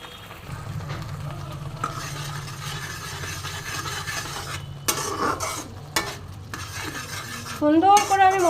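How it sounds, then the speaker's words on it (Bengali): Spice masala with turmeric, for a fish dish, fries and is stirred in a pan with a steady sizzle, repeated metal spatula scrapes against the pan and a few louder clatters near the end. "সুন্দর করে আমি মশলাটাকে কষবো।"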